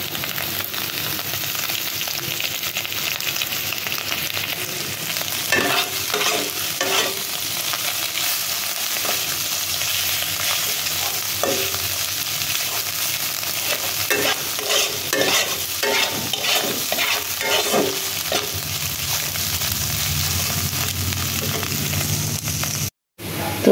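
Potatoes frying in oil as they are stirred, a constant close sizzle overlaid with repeated scraping and clattering strokes from the stirring utensil, and a brief gap near the end.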